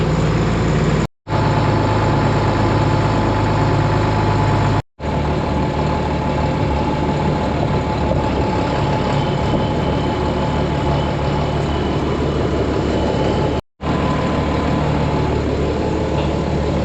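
Tractor engine idling outdoors after finishing discing, a steady low rumble with a constant hum, broken by three brief dropouts.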